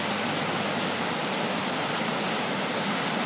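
Floodwater after an Easter storm in southwest Douglas County, Missouri, pours off in small waterfalls, making a constant, dense rushing hiss with no pauses.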